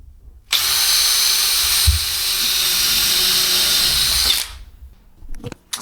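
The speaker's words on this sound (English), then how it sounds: "I'll pre-drill 2 holes at the top." A power drill pre-drilling holes in a door jamb for a bi-fold door, one steady high whine running close and loud for about four seconds, then stopping, followed by a few light knocks.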